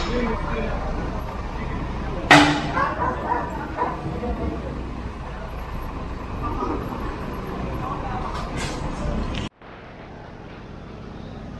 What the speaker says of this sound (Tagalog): Mga aso nila.